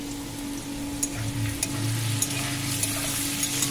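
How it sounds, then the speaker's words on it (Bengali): Potatoes and carrots fry together in a pan with a steady close sizzle, small pops and crackles scattered through it, and no voices. "এখানে আলু গাজর একসঙ্গে ভেজে নিচ্ছি"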